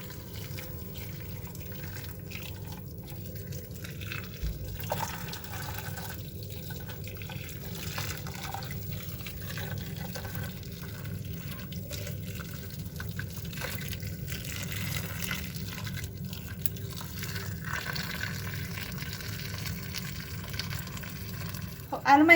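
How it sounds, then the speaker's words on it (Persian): Boiling water pours steadily into a pot of kaleh pacheh for a long stretch, a soft continuous splashing and bubbling that stays faint and even throughout. "آب جوش بهش اضافه میکنیم تا اونجایی که روی کله پاچمون رو بگیره"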